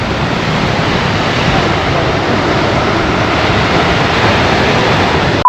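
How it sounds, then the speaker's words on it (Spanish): Pacific Ocean surf at a Puerto Vallarta resort beach roars as a loud, continuous broadband wash, steady and unbroken with wind buffeting the microphone, no distinct wave breaks standing out, ending in an abrupt cutoff. "escuchen el mar"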